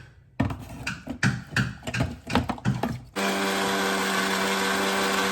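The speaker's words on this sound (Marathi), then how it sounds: "आता हे मिक्सरला लावायचं" Clattering and knocking at first, then a mixer grinder blending jaggery whirs up into a loud, steady motor hum that runs to the end.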